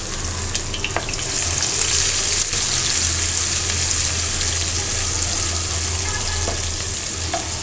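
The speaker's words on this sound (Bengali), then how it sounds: "কড়াইতে যে এলাচ, দারচিনি দিয়ে দিছি। এখন দিয়ে দেবো পেঁয়াজ কুচি।" Chopped onion sizzles in hot oil with cardamom and cinnamon in a kadai, a loud, close, steady frying hiss with stirring scrapes and a few light clinks, no voices.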